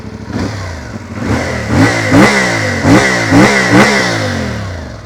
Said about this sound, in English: This is the stock exhaust.